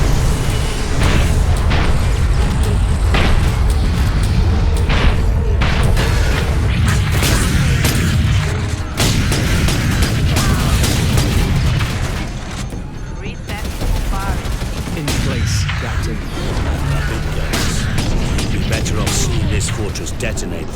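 Explosions rip through a fortress in Warhammer 40K: Space Marine, a dense, continuous roar of loud blasts and gunfire-like bursts with deep rumbling booms throughout, easing briefly midway before surging again, with voices breaking in now and then.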